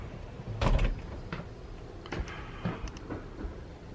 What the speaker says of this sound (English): This bath has a barn door